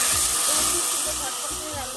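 Pieces of shol fish drop into a hot pan and sizzle in a loud, steady hiss that fills the space, with faint low thumps underneath.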